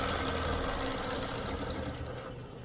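A longarm quilting machine stitches along a ruler with a continuous close mechanical hum and rapid needle chatter, easing off slightly near the end.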